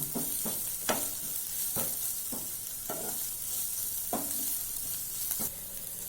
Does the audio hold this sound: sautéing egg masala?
yes